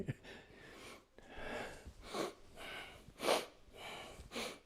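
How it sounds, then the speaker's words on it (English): Slow, deliberate breathing in and out through the nose and mouth during a qigong routine, several long audible inhales and exhales, close to the microphone and fairly soft, with no words spoken. "I'm just breathing so you can hear when I'm breathing in and out."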